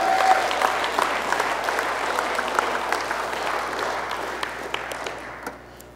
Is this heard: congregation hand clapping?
yes